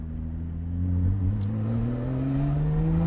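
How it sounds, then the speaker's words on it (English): A powerful Lotus sports car engine rumbles nearby, its deep tone climbing steadily as it revs up, loud and continuous. "definitely one of the best sounding cars I've ever heard"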